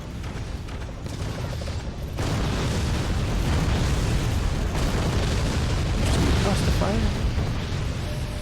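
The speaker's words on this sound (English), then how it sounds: "Please keep firing. Don't stop firing the nukes." Nukes firing and exploding in the video game Forts, a physics-based fort battle game: a continuous barrage of heavy booms and blasts that grows denser and louder, packed closely together with no breaks.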